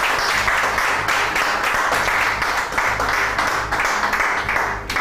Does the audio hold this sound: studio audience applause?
yes